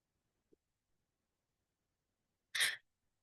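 After near silence, one short, sharp sneeze breaks out, close and loud.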